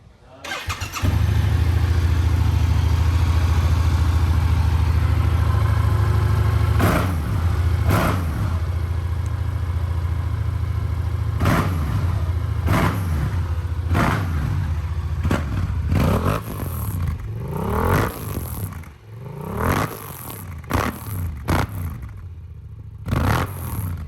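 Yamaha R7 sport motorcycle, 2022 model, fitted with an Akrapovic full-system exhaust, starting and settling into a steady deep idle, then a series of sharp throttle blips revving up and dropping back, close and loud.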